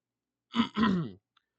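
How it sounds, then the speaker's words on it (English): A single throaty clearing sound, two short rough bursts close to the mic, followed by a tiny click and silence. "you're going to be hearing me clear my throat a lot"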